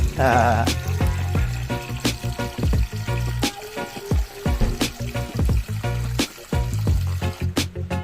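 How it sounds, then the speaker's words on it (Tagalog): Water splashes and pours in several dipper scoops, sloshing into a top-load washing machine tub at close range with brief pauses between pours. "Tabo muna tayo ng tubig."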